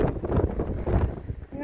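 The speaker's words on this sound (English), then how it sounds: "It is so windy." Strong wind buffets the microphone on the summit of Blackrock Mountain, 3,098 feet up in Shenandoah National Park, a steady loud rumbling roar with gusty swells throughout.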